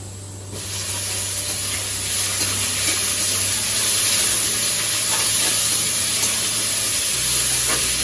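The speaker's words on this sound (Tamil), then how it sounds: "இப்போ அடுத்து வெங்காயம் போட்டு வறுக்கிறேன்" Steady broadband sizzling of onions frying in hot oil, continuous and fairly loud throughout, with a low hum underneath and no talking.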